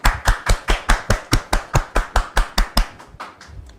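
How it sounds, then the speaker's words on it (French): A studio audience on a French talk show claps in slow, steady unison, about fifteen loud, evenly spaced claps that fade slightly toward the end, with no talking over them. "Merci de les recevoir sous vos applaudissements."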